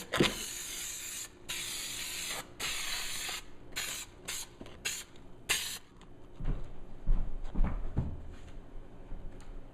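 An aerosol can spraying adhesive during installation of a trunk liner on a Victory Vision motorcycle, a series of loud hissing bursts of varying length close by, followed by softer handling knocks and rustles.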